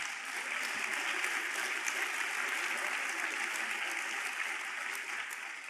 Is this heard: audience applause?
yes